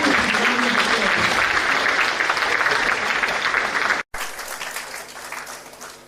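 An audience applauds at a live event, a dense, sustained wash of clapping that briefly cuts out and then resumes a little quieter, tapering off.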